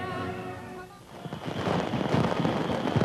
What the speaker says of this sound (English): Then daylight fireworks almost shrouded the palace in smoke and caused mild alarm on the balcony.